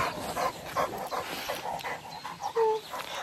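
Small pet dog, a female house dog, panting in short breathy bursts with faint whimpering whines near the end, close and moderately loud, with no talk over it.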